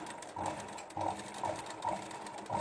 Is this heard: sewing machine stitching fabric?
yes